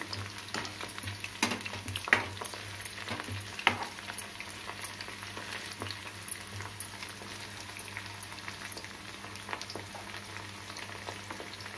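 Chicken 65 pieces fry in bubbling hot oil as they are turned, a continuous moderate crackle and sizzle with scattered sharp pops and a few scraping clicks from the turning.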